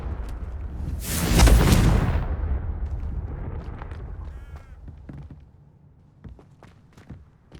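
A Confringo explosive spell in Hogwarts Legacy lands with a loud, close blast and a roaring burst that trails off over a few seconds, followed by scattered debris clatter and footsteps.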